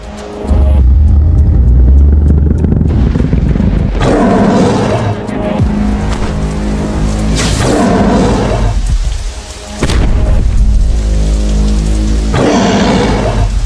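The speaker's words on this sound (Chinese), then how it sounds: "雨越下越大，林子里肯定是休息不了了。" Heavy rain pours down in a wooded setting during a thunderstorm, a loud, dense roar with rumbling swells that dips briefly before surging again.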